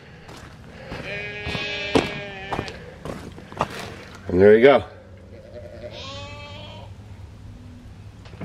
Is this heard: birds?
no